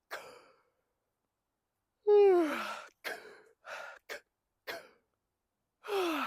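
A voice yawns deeply during a vocal warm-up, with a falling, breathy sigh, followed by a series of short breaths and exhalations, then another yawn, close and alone.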